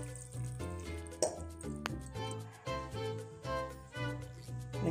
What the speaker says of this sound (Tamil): ஸோ நம்ம தண்ணியை ஆட் பண்ணிக்கலாம்.